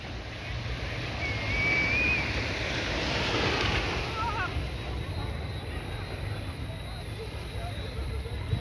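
Surf washing onto the shore along Carlisle Bay in Barbados at night, a steady broadband wash with gentle swells, mixed with some wind on the microphone, continuous for the whole stretch.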